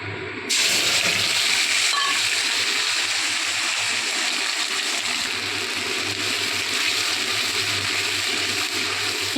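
Spices dropped into hot oil in a kadai while making aloo dum, a sudden loud sizzle that starts abruptly and keeps hissing and crackling steadily close by.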